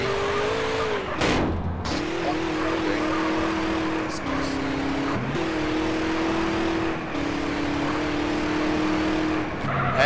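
A car skids under the handbrake in GTA San Andreas, with a steady engine drone and a sharp tyre screech near the start. Shorter squeals follow at intervals, and a voice talks over them.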